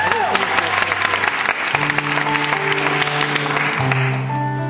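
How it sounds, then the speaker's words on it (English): A crowd claps steadily at a farewell gathering in Litomerice, the applause continuous and fairly loud, with sustained music-like tones running underneath throughout. "You are liking it with the clapping"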